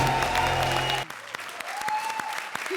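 Studio audience applause on an Indian comedy show: a dense burst of clapping that cuts off abruptly after about a second, followed by scattered claps under background music.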